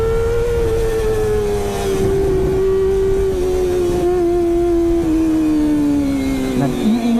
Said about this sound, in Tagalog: Nag-iingay na naman si ZX25R dito sa MSU campus.